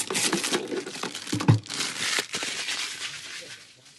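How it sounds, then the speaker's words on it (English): Plastic wrapping is pulled and crinkled off a compact Gocheer bedroom dehumidifier, close up. The rustling comes in irregular bursts with one sharper crackle, then fades out toward the end. "this comes out and is covered in plastic"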